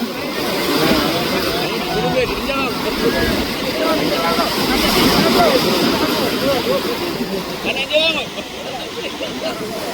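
A boat engine drones steadily as the next boat arrives at Mathagal beach at night, a low continuous motor hum under people talking, gradually fading toward the end.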